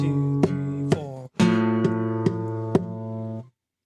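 Acoustic guitar chords strummed in a steady rhythm, about eight sharp strokes ringing close and clear, with a short gap midway before the chord resumes and then cuts off.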